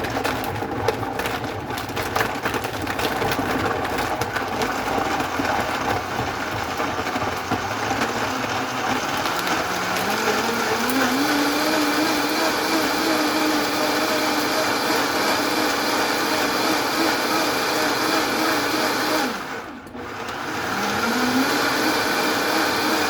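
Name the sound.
juicer blender running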